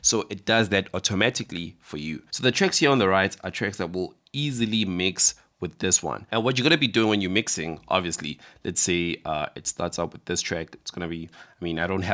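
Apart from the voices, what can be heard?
No everyday noise stands out behind the speech.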